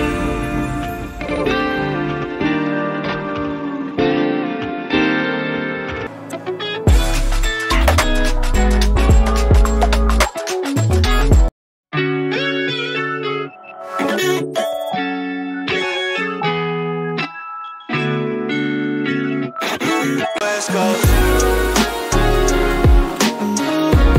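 An intricate math rock guitar solo programmed with Apple Guitar runs for over twenty seconds, with dense, fast melodic runs, chords and tapped-style flurries, loud and continuous with one brief gap, no talk.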